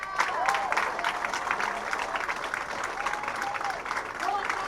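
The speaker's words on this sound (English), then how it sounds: "How about one more big round of applause for all of our competitors?" Audience applause at a women's professional bowling tournament, a steady wash of clapping with scattered cheers and a voice talking over it.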